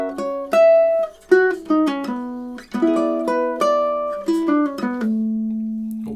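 Ukulele picking out a few measures of the Nutcracker March, clean plucked single notes and short runs in a steady rhythm, close and clear, ending on a sustained held note with no talking.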